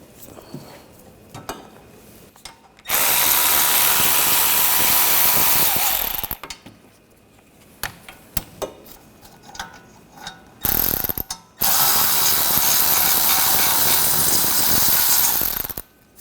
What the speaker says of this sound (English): We're just going to take the 2 bolts out for the bracket, use a 15mm socket.